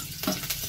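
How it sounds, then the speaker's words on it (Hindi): Fenugreek seeds hit hot oil for a tadka tempering, giving bursts of close crackling sizzle with a couple of stir-like scrapes over a steady frying hiss. "चलते हैं दोस्तों इसको तड़का मारते हैं"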